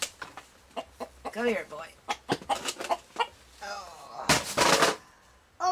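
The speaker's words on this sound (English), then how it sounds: "The hens are in the pen." Hens cluck and squawk in a pen, several close, bursty calls with a loud flurry near the end, while a person speaks between them.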